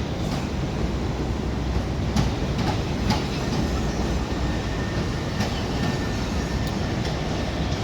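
An electric Class 377 train pulls out of London Victoria station with a loud, steady rumble of wheels and motors and faint rail clicks, close and continuous throughout.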